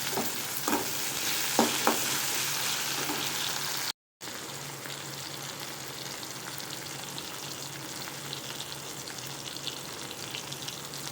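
Tomatoes frying for a masala gravy in a pan, a steady loud sizzle with a few scraping stirs early on, continuous apart from a brief cut, and no talking.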